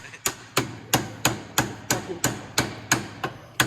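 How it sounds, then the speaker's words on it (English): Rapid metallic hammer blows on car exhaust headers during a Nissan G37 long-tube header install, ringing at a steady rhythm, about three strikes per second, loud and close with a clanging edge. "Got CJ on the hammer."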